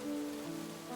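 Rain falls steadily in a winter fairy-tale video game, a soft, even hiss that runs without a break under low sustained musical tones, with nobody speaking.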